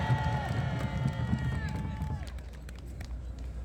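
An outdoor political rally crowd in Yeouido claps steadily for General Heo Pyeong-hwan. The continuous applause fills the whole stretch, with an amplified voice sounding over it.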